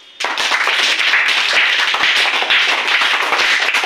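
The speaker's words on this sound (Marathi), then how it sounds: "टाळ्या वाजवा." A group of people clap their hands in a classroom, starting suddenly and keeping up loud, brisk, uneven clapping for several seconds, close and unaccompanied by speech.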